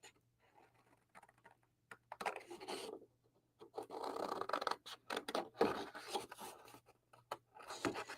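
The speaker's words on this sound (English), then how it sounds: "So for now, I'm going to cut this from back here." Craft letters being cut out of paper with scissors during a live crafting session, producing soft, irregular snipping and rustling bursts, close and fairly quiet, with short pauses between cuts.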